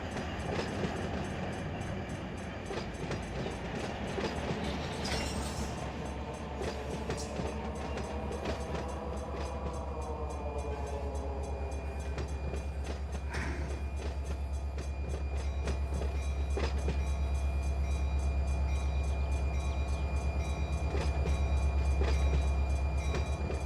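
Diesel locomotive engine in the Run 8 train simulator, ATSF yard at Malabar, droning steadily with a deep low rumble that swells louder toward the end, accompanied by rail clatter and no talking.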